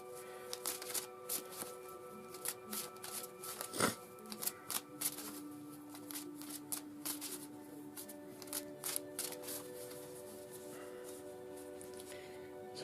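Oracle cards are shuffled by hand for a daily draw, a steady, close, papery riffling that repeats for several seconds, with a faint background hum and no speech.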